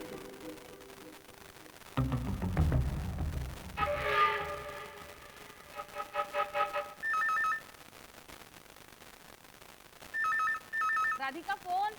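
Telephone ringing in an Indian household: bursts of electronic ring tone trill twice, separated by a pause, heard under a murky background of shuffling and faint voices.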